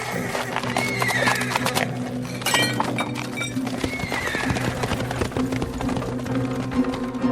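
Horses' hooves clip-clopping in an audio drama sound effect, busy thuds and clinks layered with rattling and shifting noises, fairly loud and close throughout, without talking.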